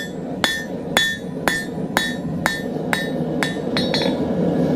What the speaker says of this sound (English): hold it up on the edge, hammer down pretty hard here in the back, lightening up my blows as I go forward.